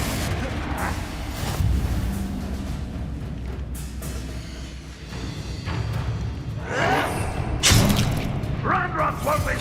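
A Confringo fire-blast spell going off in Hogwarts Legacy, a booming thud with a burst of crackling blast under ongoing battle sounds and a shouted voice, loud and close.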